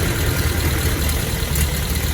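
A Triumph TR7 engine idles steadily after a half-hour warm-up, its low, even rumble carrying a faint puffing from a slight exhaust leak near the pipe joint.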